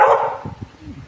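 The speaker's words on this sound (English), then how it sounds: "There's my neighbor's dogs." A neighbor's dogs barking outdoors, a few quick barks and yips over a short moment, fairly close and clear.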